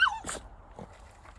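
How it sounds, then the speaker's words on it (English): Guard dogs greeting their owner's return in a garage, a few short close yips and whimpers spaced apart, with quiet between them. "Your guard dogs have been waiting, Ian."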